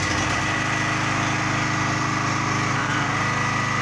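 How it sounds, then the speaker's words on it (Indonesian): A Honda portable generator engine runs steadily at a constant, fairly loud drone with a light vibrating buzz, close by and without any talk. "ini genset udah hidup"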